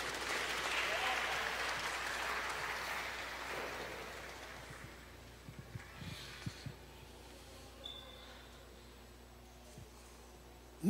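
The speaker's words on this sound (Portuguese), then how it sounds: "Aplaudam a Jesus Cristo" Church audience applauding during a Portuguese-language sermon, a loud, dense burst of clapping that fades away over several seconds into quieter room noise with scattered knocks.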